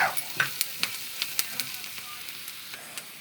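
A turmeric mixture fries in a pan until it thickens, a faint sizzle broken by a rhythmic series of crisp spatula taps and scrapes about every quarter second.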